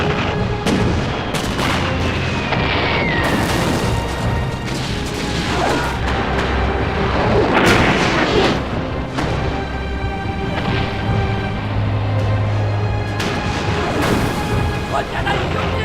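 Naval artillery fire from Beiyang Navy warships in a battle film: repeated heavy booms and crashes over a constant roar, mixed with shouted voices and dramatic music.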